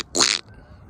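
A person imitates a duck call with their voice on a wildlife refuge hiking trail, giving one short, loud, buzzy honk close by, followed by quiet.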